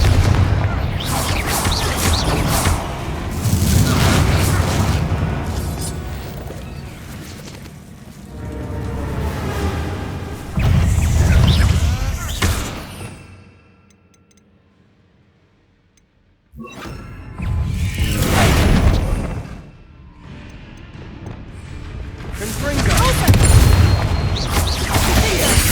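Booming blasts of the Confringo fire spell in Hogwarts Legacy, heavy low rumbling explosions in several waves with a near-silent pause between them.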